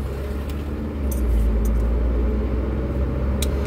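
Inside a car driving on a road, a steady low rumble of engine and tire noise holds throughout, with a few faint clicks and no talking.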